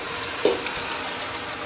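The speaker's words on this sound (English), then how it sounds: "I'm going to take those out and then fry off the meat. Put in the steak." Steak pieces hit a hot pan for frying meat for a steak and ale pie, giving a steady, close broadband sizzle with a couple of brief stirring clicks and no talking.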